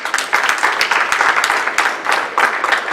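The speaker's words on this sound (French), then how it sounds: "Est-ce qu'on peut applaudir pour l'Éternel?" A church congregation claps together, rhythmic bursts of many hands beating in a pulsing pattern, fairly loud and steady across the moment.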